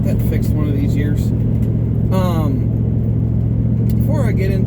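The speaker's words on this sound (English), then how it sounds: "Heading out in the old work truck to do a little side hustling" An old work truck driving along with a steady, loud low engine drone and cabin rumble throughout, while someone talks over it.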